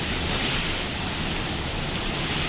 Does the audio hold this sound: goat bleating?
no